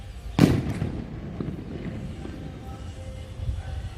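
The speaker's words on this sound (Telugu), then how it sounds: "బాంబులు వేలుస్తున్నారు." A single loud firecracker bang goes off at a distance during a Ganesh idol immersion nearby, followed by a fainter crackling echo and then quieter outdoor background.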